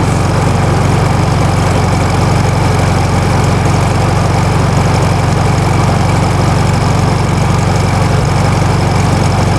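A 1964 1600cc VW Beetle engine idles steadily up close, a loud, even low rumble with a constant fast putter and slight vibration, unchanging and without talk.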